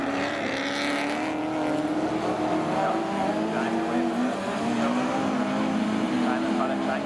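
Stock cars racing on a short oval, with a big Chevy leading the pack, their engines droning and whining in overlapping tones as they circle at a distance while a commentator talks over the noise.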